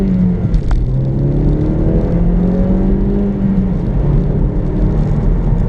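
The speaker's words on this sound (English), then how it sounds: "it's quite a refined 4-cylinder engine, reasonably muted" A 2016 Kia Pro_cee'd GT with a refined four-cylinder engine pulls away from a junction with GT mode off, its muted engine tone rising steadily through the gears, heard from inside the car under road noise.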